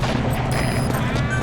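Dense, loud gunfire and booming bursts in Metal Gear Solid V: The Phantom Pain on PS4, aimed at an enemy helicopter, a continuous roar of shots with no pauses across the moment.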